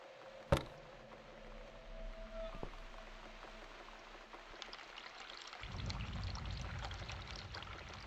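Water pours into a container to fill it up in the horror game The Cat Lady, a soft low rushing flow that starts after a click and some quiet faint sounds, heard alone and fairly quiet.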